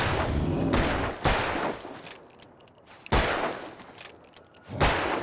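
Gunfire in the video game Alan Wake, several loud, booming shots spaced a second or two apart, each with a long decaying tail, over a busy ambient game soundscape.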